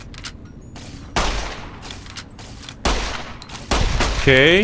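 Rapid bursts of gunfire in the video game Fallout: New Vegas, several loud volleys in quick succession over game ambience, with someone talking briefly between shots.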